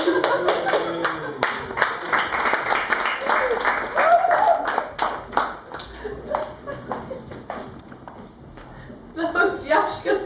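A small crowd at a live music event claps in a dense, rapid burst of handclaps, close and lively, fading briefly before picking up again at the end, with voices talking over it.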